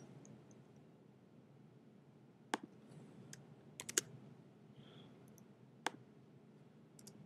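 A few sharp, isolated keystrokes on a computer keyboard sound close but faint in a quiet room, irregularly spaced with a short cluster in the middle.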